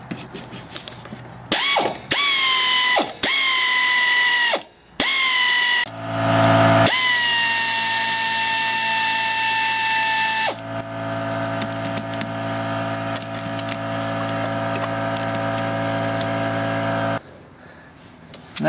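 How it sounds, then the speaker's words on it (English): A hand ratchet loosens a 12 mm alternator mounting bolt on a 2000 Hyundai Sonata, giving bursts of loud, close metallic clicking with brief pauses, then a long continuous ratcheting run before stopping. "First one is 12 millimeter."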